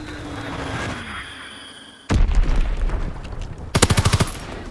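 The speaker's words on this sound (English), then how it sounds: "Enemy bomb incoming! Get to cover!" Video game combat at the USS Texas: a sudden heavy bomb-strike boom partway through, followed by rumbling blasts and a loud rapid burst of machine-gun fire near the end.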